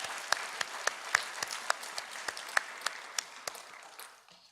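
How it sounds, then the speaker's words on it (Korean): A church congregation applauds to welcome newcomers at a Sunday worship service, a steady moderate patter of many hands with sharp individual claps standing out. It fades toward the end with no talk. "박수로 환영합니다"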